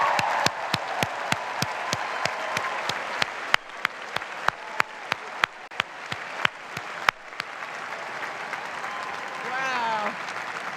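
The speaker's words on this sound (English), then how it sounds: "Graduates, let's begin by joining me in applauding the ultimate heroes, your parents." Commencement crowd at a university graduation applauding the graduates' parents, sustained broad clapping from a large audience, punctuated by sharp loud pops and fading toward the end as murmuring and a voice come through.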